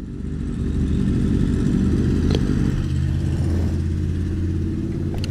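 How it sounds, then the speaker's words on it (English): A motorcycle rides close behind on the road, its steady engine rumble loud and continuous throughout, with no clear pass-by swell and no talk over it. "motorcycle on my butt"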